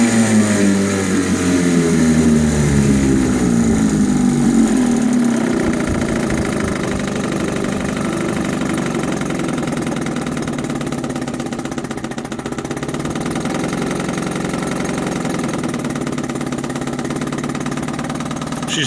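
A 1967 Johnson 3hp folding outboard motor runs loud and close. Its engine pitch rises as it revs up, then it holds a steady, buzzing high-idle drone for the rest of the clip. Nobody speaks.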